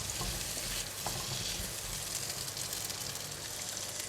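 Asparagus and carrot stir-fry in a pan for a Chinese-style scallop dish, a continuous, fairly quiet sizzle with a dense hiss and light spatula movement throughout.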